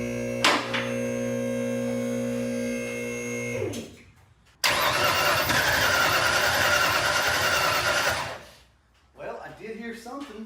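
A carbureted engine in a scrapyard Notchback cranks steadily for a few seconds. After a short pause it catches and roars loudly for several seconds, then cuts out, and voices follow.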